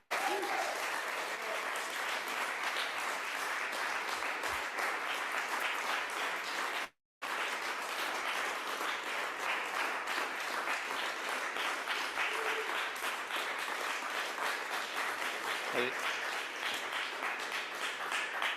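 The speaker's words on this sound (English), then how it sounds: "I know the applause went long" A crowd applauds at length after a Toronto arts funding announcement for Harbourfront Centre programming, with dense, sustained clapping that carries on steadily, a brief cut in the middle, and faint voices underneath.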